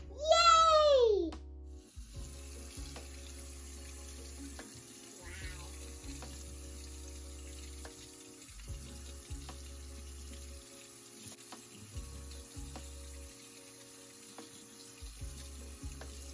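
Tap water runs steadily into a sink while an egg, its shell dissolved in vinegar, is rinsed off, the flow faint and continuous, with a short burst of a high voice at the start.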